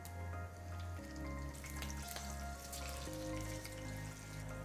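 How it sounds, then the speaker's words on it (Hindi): Cumin and green chili sizzling in hot ghee, a steady, close frying hiss that fills the clip, with sustained musical tones underneath. "गर्मा गर्म घी के अंदर सबसे पहले छौंकेंगे हम जीरा, साथ में थोड़ी सी हरी मिर्च।"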